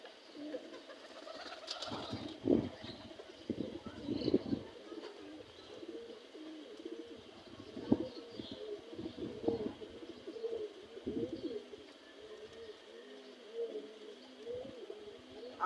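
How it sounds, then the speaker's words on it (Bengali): Pigeon cooing close by, a steady series of soft, throaty low coos repeating in a loose rhythm throughout, with a few brief rustles and knocks; no one speaks. "আমার বামে একটি নতুন কবুতর এসেছে, আমাদের অতিথি এসেছে।"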